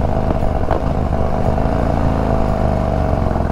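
A Harley-Davidson Road King ST with a 135 engine accelerates mildly, its loud, steady rumble running close and continuous with no deceleration pops.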